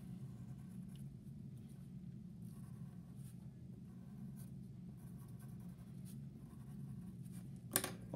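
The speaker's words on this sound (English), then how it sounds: "If I wanted to add eyes, I could just draw in some eyes here." A pen draws eyes on paper with faint, intermittent scratchy strokes, close but quiet over a low steady rumble like passing traffic, and one louder scratch near the end.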